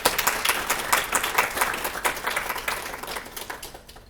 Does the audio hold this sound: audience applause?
yes